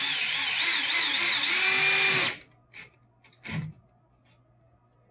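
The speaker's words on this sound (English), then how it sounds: "you attach it to your drill, apply pressure to the wall" A power drill whines steadily for about two seconds driving a wall anchor, then stops, followed by a few faint clicks and handling noises.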